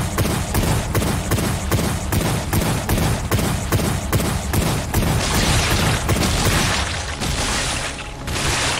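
Rapid, heavy gunfire from shotguns and other weapons in the shooter game Wrath: Aeon of Ruin, a steady close barrage of punchy blasts throughout, thickening into a denser roar near the end.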